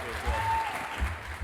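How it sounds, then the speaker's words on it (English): An audience at a sculpting competition final claps for the contestants, a soft, brief patter of hands heard at a moderate distance, with a low rumble and a faint tonal whistle running underneath. "Round of applause for our contestants"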